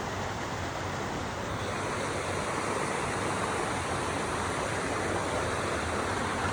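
Bambarakanda waterfall, the highest in Sri Lanka, roars as its water flows: a steady, dense, unbroken rush that fills the scene from start to finish at constant loudness.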